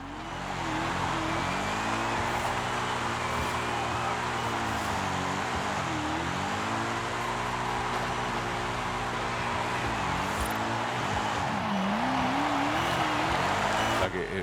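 A Corvette in the Forza Horizon 5 racing game drifts with a sustained engine roar whose pitch swoops up and down through gear changes and throttle lifts, with tire squeal, loud and continuous for the whole stretch.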